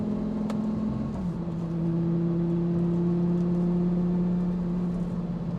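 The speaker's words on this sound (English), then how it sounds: "you'll hear that all that extra noise goes away, and you actually hear how quiet and comfy this cabin is" Inside the cabin of a 2007 Lamborghini Gallardo on the move, a low steady engine drone and faint road hum stay quiet and even, with a slight shift in pitch early on.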